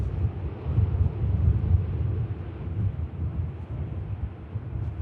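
An EasyJet airliner touches down on the runway at Manchester Airport, heard as a steady, distant, low rumble of engines and wind-like roar with no distinct impact, continuing evenly throughout.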